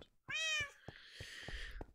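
A cat in the Minecraft video game gives a single drawn-out meow, close and clear, followed by quiet clicks and faint background sound.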